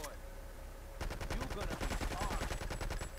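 Rapid bursts of gunfire from the video game GTA 3 erupt after a quiet second, a fast automatic rattle of repeated shots that stays loud and dense until the end.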